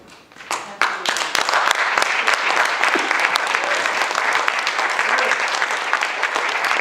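Audience applause at a talk, dense clapping that swells in within the first second and then holds steady and loud, with sharp individual claps standing out above the wash.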